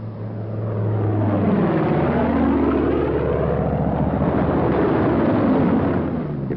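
A P-47 fighter plane's propeller engine drones loudly as the aircraft passes, the pitch sweeping and shifting during a low fly-by, with the roar holding steady throughout and no talking.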